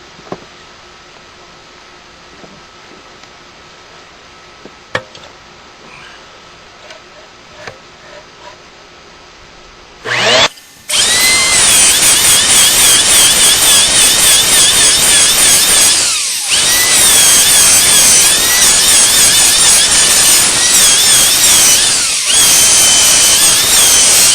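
A drill with a half-inch bit bores out QX56 wheels, kicking in suddenly after a quiet stretch and then running as a loud, sustained, close-up whine with brief dips and no talk.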